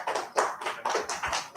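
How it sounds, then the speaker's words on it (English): Quick, close clapping by a small group welcomes Mr. Heath, with uneven bursts of hand claps running briefly throughout. "Can I have a huge round of applause for Mr."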